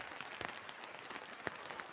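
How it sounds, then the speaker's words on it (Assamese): Steady rain patters on surfaces outdoors near a path to a garden, a faint even hiss with a few sharper drops standing out. "বৰষুণ দি আছে আজিও।"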